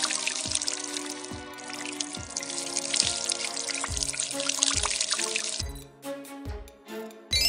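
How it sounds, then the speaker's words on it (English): Water streams and trickles steadily out of holes punched in the sides of a plastic bottle, with a splashing, pouring sound and a light musical tone running throughout. "Now you can see water coming out from the hole."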